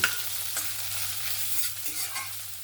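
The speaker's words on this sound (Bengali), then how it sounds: "এখানে পেঁয়াজ, টমেটো, কাঁচা লঙ্কা ভালো করে লাল লাল করে ভেজে নিয়েছি" Onion, tomato and green chilli stir-frying in oil in a pan, a constant close sizzle with a few spatula scrapes and stirs breaking through.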